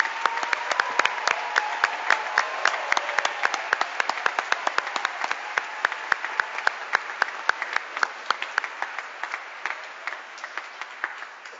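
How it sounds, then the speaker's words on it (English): Audience applause at a December graduation recognition ceremony for bachelor's and associate's degree candidates, a dense steady patter of many hands clapping that continues without letup throughout, with no voices on top. "Another round of applause for the bachelor's and associate's degree."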